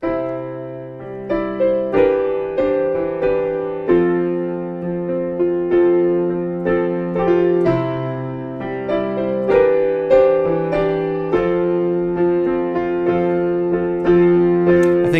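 Piano plays a slow, unhurried intro of a song, chords and melody notes, each struck note ringing and decaying before the next, with no talking.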